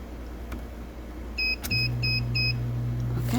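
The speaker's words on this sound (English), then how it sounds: "so those are the beeps to turn it on" A Bostitch laminator, just plugged in, gives four short evenly spaced electronic beeps, then a steady low motor hum starts after a click.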